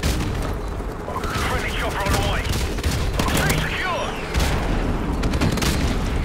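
Grenade explosions and gunfire in Call of Duty 4 Remastered fill a dense, loud, unbroken barrage of blasts and shots, with game voices faint beneath.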